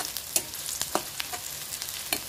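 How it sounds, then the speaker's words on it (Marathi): Onions fry in oil for a wild vegetable dish, a continuous sizzle broken by scraping stirs and occasional sharp pops. "तेलामध्ये कांदा भाजून"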